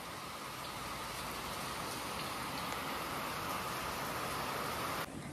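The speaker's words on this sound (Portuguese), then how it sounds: "Olha aqui como que tá chovendo." Heavy rain pours outside a bedroom on a cloudy day, a dense, constant hiss with no pauses and no voices, cutting off abruptly at the very end.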